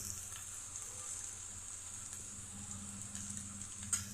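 Chili powder and salt sizzle steadily in a hot pan as spices fry, a continuous close hiss with a faint low hum beneath and one small clink near the end; no one speaks.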